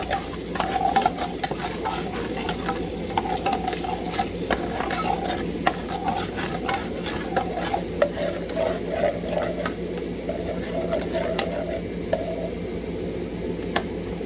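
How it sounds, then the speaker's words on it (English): Food being stirred in a pan for a Hello Fresh meal, with a steady close sizzle and repeated utensil scrapes and clicks against the pan throughout. "Alright, stir these."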